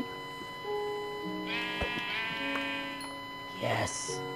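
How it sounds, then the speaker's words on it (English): Sheep bleat a few times in short wavering calls amid electronic tones in Minecraft, with a brief voice at the end. "Sheep."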